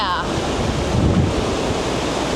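Ocean waves washing onto the shore at sunset, a steady broadband rush of surf with wind buffeting the microphone throughout.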